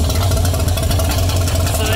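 A Mercruiser boat engine runs on a stand outside a boat, giving a steady, loud, close low idling rumble with no break throughout.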